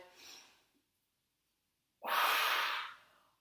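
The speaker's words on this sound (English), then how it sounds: "Breathing in slowly, breathing out strongly. In through the nose as you open, and then out through the mouth as you close." Pilates breathing: a soft nasal inhale at the start, a pause, then a strong, loud exhale out through the mouth lasting about a second, close and alone.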